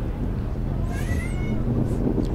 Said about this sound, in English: once in a while you might hear one of our cats meowing at me, wanting some petting